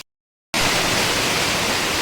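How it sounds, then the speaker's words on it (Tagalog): Heavy rain pours down in a dense, steady roar, beginning abruptly after a brief half-second of silence and holding loud and even to the end with no voices. "Ay, lumakas pa friendship yung ulan."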